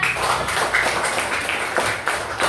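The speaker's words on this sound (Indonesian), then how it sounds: "tepuk tangan untuk SD 1 Mungkung" Schoolchildren at SD 1 Mungkung clap together in a classroom, a dense, steady patter of many small hands lasting the whole moment at close range.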